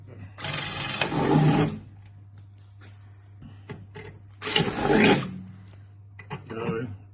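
A power drill with a small bit bores into metal during a car restoration, two separate whining bursts of about a second each over a steady low hum, with people talking between them.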